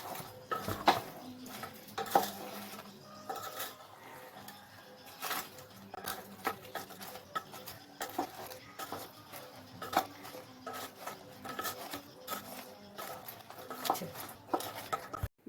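A utensil stirs fried khaja sweets in sugar syrup in a pot over low heat, scraping and clinking in irregular bursts of clatter, close by, with no talking.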